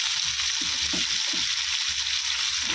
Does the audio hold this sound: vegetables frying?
yes